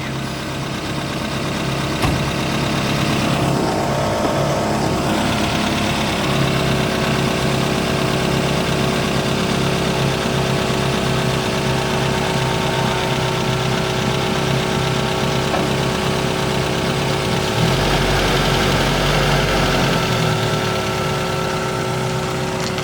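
A 1980 Toyota 4x4 pickup, long left sitting, runs steadily at a rough idle with a low throbbing engine tone and slight knocking, loud and close throughout, with a brief rise in revs near the end.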